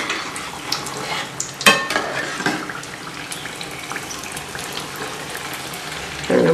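Athirasam dough pieces frying one by one in plenty of hot oil, a soft bubbling sizzle with occasional sharp scrapes and clinks of the utensil against the pan.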